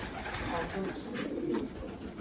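Low, soft cooing of many Filo pigeons inside a coop, a continuous murmur of overlapping calls with a faint voice mixed in.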